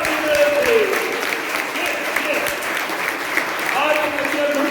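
Applause from an audience at an annual school programme fills the room as steady, dense clapping at moderate volume, with a few voices calling out above it.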